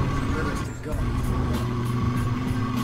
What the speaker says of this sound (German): Das macht super viel Laune, jetzt gerade mit diesem Truck hier zu fahren.